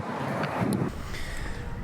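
Strong wind buffeting a microphone outdoors in the Swiss Alps near Lauterbrunnen, a loud continuous low rumble with gusts, no speech.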